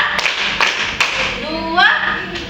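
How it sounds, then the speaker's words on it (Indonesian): A group in a counseling session claps in rhythm during a counting game, a few sharp claps spaced through a short stretch, with voices talking over them. "Tepuk satu, tepuk dua, tepuk tiga"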